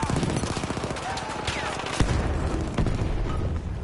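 Rapid video game gunfire in a 5v5 team deathmatch, with sustained automatic bursts and a heavy grenade blast near the middle, close and loud throughout.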